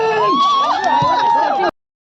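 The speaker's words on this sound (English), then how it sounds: "Can we make some noise for the bridesmaid?" Guests at a sangeet ceremony cheer and whoop loudly for the bridesmaid, a lively mass of raised voices that cuts off abruptly after under two seconds.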